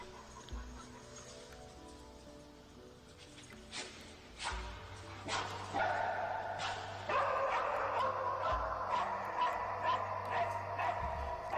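A cadaver dog screening parked vehicles gives a series of soft, distant barks and yips, faint against a low background hum, with brief voices nearby.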